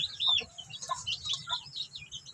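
A newly hatched chick gives a few thin, high chirps close by, with faint background clucking from other chickens.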